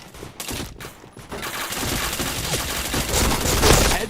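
Video game gunfire rattles in a shooter match, starting with a few separated shots and building into continuous automatic fire that grows louder toward the end, close and unaccompanied by talk.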